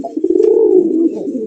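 A golla pigeon coos close by in one steady, throaty, low rolling call lasting over a second, with no other sound around it.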